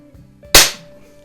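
One sharp, loud shot from a Daisy model 62 underlever spring air target pistol firing a heavier pellet: a single crisp crack that rings out briefly and fades within a quarter second, close by and alone.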